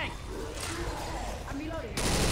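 Rapid gunfire aimed at the Tank in the Left 4 Dead 2 video game, a dense continuous burst with voices talking over it.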